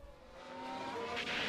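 An F1 race car overtaking in F1 Manager 24, a brief engine note that climbs in pitch and swells in loudness as it draws near, with no voices.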